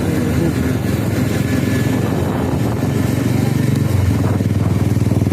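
A Royal Enfield Bullet motorcycle engine thumps loudly and steadily nearby with a rhythmic low chug, holding a continuous beat as it passes.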